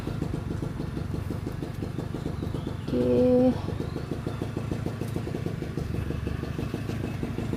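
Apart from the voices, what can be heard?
motorcycles passing by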